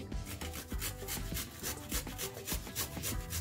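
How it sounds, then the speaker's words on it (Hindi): Fresh ginger rubbed against a grater in a home kitchen, a rapid, regular rasping rhythm of close strokes with no voices. "अब अदरक घिस लेती हूँ।"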